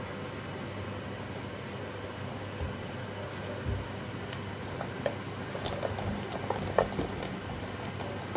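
Fried gulab jamun sit in a pan of boiling sugar syrup, a steady low bubbling wash with faint soft pops scattered through it, alone and fairly quiet.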